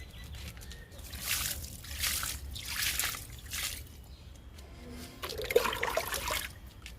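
Homemade liquid fertilizer for okra plants, poured in slow, separate bursts that splash and trickle onto the plants and soil, quiet and close, with a soft bird note late on.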